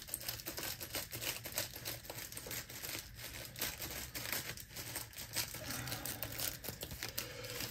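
Bubble wrap being cut into a single row with scissors, a steady stretch of crinkling, crackling plastic with small ticks and snips close up and fairly quiet, no voices.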